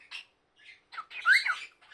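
A pet bird gives a series of short, harsh squawks and chirps in quick bursts, close and fairly loud in an otherwise quiet room.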